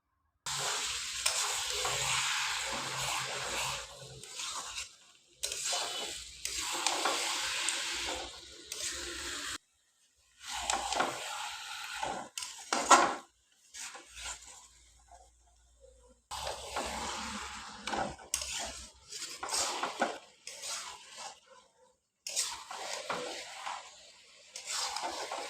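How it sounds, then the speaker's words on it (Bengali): Goat meat sizzles and frying in a pan with salt while being stirred, bursts of crackling scraping broken by short pauses, fairly close and steady. "আর লবণ দিয়ে একটু নাড়াচাড়া করব।"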